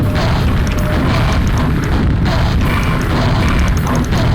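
A video game gun fires in a loud, rapid string of booming blasts, close and continuous without pause.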